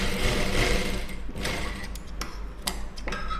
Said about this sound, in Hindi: इस तरीके से मैंने यहाँ पे सिलाई चलाई है, आप देख सकते हो